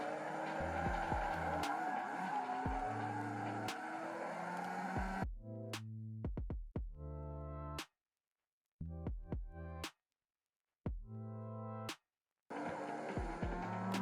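Racing car in the CarX driving game with a loud, continuous engine whine that rises and falls through gear changes, broken by several abrupt silent gaps and short bursts of revving.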